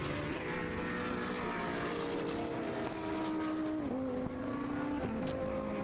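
Racing cars in the 2011 Blancpain Endurance Series at Silverstone brake into Village corner, engines dropping pitch through downshifts in a loud, continuous multi-car roar with no voices.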